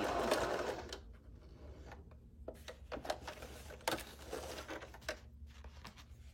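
A sewing machine stitching fabric hums along quietly with a steady motor drone, broken by light rhythmic ticks and clicks of the needle as the cloth is moved flat.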